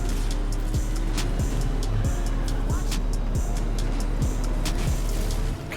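A Chevy Colorado ZR2 pickup in the racing game Need for Speed Unbound drones steadily under load, with a constant low engine hum and regular rhythmic thumps as it drives, loud and continuous with no speech.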